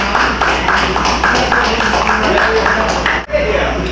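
Rhythmic hand clapping from a clap band performing live at a concert at the Sixth Street Harm Reduction Center, a steady pattern of claps running loud and close the whole way with a brief dip near the end.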